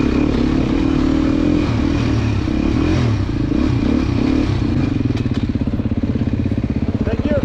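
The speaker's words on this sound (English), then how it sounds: "for a woods bike, this is a fun bike right here" A Beta woods motorcycle at a 2024 demo day runs loud and close with a continuous rough engine drone. The throttle pulses toward the end, and people talk faintly underneath.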